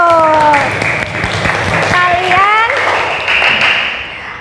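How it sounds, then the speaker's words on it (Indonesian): A classroom of primary school pupils clapping together during a teaching practice lesson, a run of quick, loud claps mixed with children's voices and shouts. "Sekarang tepuk tangan untuk kalian semua"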